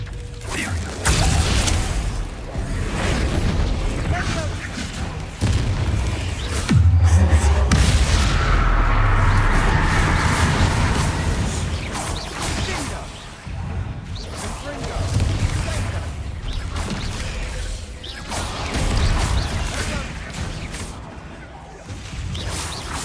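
A Confringo blasting spell in the Hogwarts Legacy video game, with a heavy rumbling explosion and crashing debris among other game effects, while people keep talking over it.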